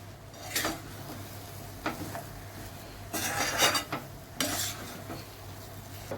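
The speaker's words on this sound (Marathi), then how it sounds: "झाकण उघडू आणि एकदा व्यवस्थित मिक्स करून घेऊ" Semolina for pineapple sheera is stirred in a pan, giving a few separate bursts of spoon scraping and shuffling against quiet background hum, close and soft.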